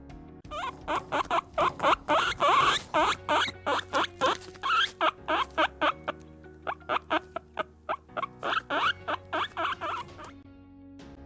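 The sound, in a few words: guinea pig squeaking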